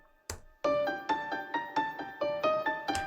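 Melodic line given a gritty vinyl-style distortion effect: a bright, plucked synth or keys melody of evenly spaced notes after a single opening hit, moderately loud, with no voices.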